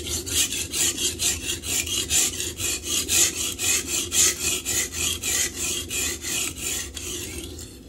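An S35VN steel knife blade is stroked across an Atoma 140 diamond plate, giving a rhythmic series of about fourteen close, gritty rasping strokes in quick, even succession.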